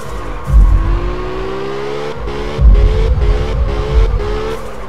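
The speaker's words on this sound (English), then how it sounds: "So right now I'm only at the point of probably a power slide more than a drift" Racing car power-sliding in the video game Absolute Drift, its engine droning and revving in rising pitch sweeps while tires squeal and skid; sharp surges at the start, middle and near the end, loud and continuous with no talk.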